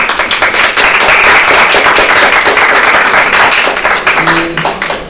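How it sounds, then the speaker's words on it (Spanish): Audience at a literary conference panel gives a short round of close, steady clapping that tapers off toward the end. "A María del Rocío, un aplauso para ella, por favor."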